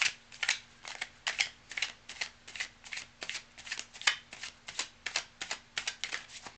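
Tarot cards riffled and shuffled in a rapid run of crisp, papery bursts, close and fairly quiet, repeating steadily with no voices over them.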